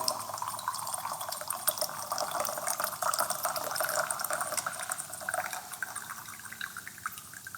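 Tea pours steadily from a gaiwan into a fairness pot with a soft splashing trickle for several seconds, close by and fairly quiet, during a gung fu tea brewing.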